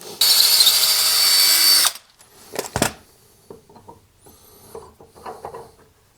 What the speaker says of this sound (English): So I need to drill it a little deeper.